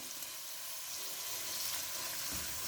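Already-boiled chicken pieces and a handful of capsicum fry in a pan for spicy Hakka-style noodles, giving a continuous bright, hissing sizzle close up, with no speech.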